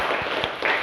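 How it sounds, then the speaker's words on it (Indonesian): Students in a classroom clap together for their class groups, a short, dense burst of applause with scattered sharp hand claps. "Kasih tepuk tangan untuk kalian semua."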